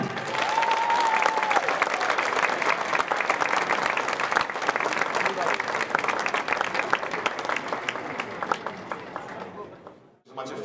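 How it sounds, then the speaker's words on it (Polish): Dense, loud applause from a crowd greeting a cabaret group at a performance in Krynica-Zdrój, sustained for about nine seconds before quickly fading away. "poprosiłbym o gigantyczne brawa dla pierwszych kabaretu"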